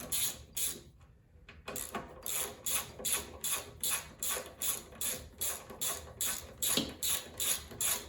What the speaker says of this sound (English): I'm gonna use a socket.